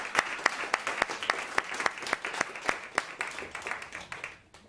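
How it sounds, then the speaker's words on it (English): An audience applauds Councilmember Joseph at a public event on NYC public schools and tech opportunity, a crowd's dense, steady clapping with individual claps standing out, fading toward the end. "can everybody join me in applauding Councilmember Joseph?"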